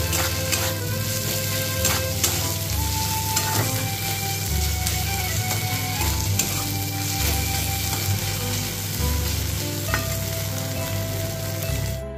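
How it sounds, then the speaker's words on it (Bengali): Onion cooks with spoonfuls of garlic and ginger paste in a pan, a strong steady sizzle with repeated rhythmic scraping and stirring strokes throughout, close by, with no voices. "এবার এর মধ্যে আমি দিয়ে দিচ্ছি 1 চামচ রসুনের পেস্ট দিয়ে দিলাম, আর দিয়ে দিচ্ছি 1 চামচ আদার পেস্ট। দিয়ে ভালোভাবে এটা কষিয়ে নিতে হবে।"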